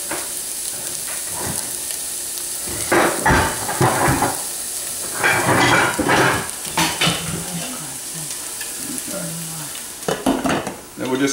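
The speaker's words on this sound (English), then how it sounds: "We're going to let that saute over medium to medium high heat." Corn chowder ingredients with turkey sauté in a pan over medium-high heat, a steady sizzle broken by repeated bursts of spoon stirring and clanks against the pot, close by.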